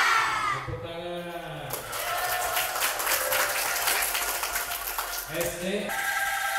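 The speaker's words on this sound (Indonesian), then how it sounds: "Tepuk tangan." An audience applauds a primary school angklung group at Bale Seni Barli, a dense run of clapping that swells after a brief spoken prompt and fades as a voice returns near the end.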